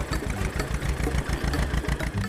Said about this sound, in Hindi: ट्रैक्टर में बैठकर उस अधूरे रोड के उस पार जाने लगा